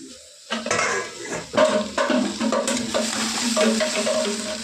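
Indian gooseberries (amla) lightly frying for pickle in a pan, a soft sizzle under clattering stirs as a metal spoon knocks and scrapes the pan at close range in an uneven rhythm.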